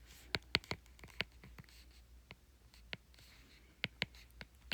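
Marker writing on a board for a physics lesson on mirrors and lenses, faint and close, with scattered sharp taps and squeaks between quiet scratchy strokes and no talk.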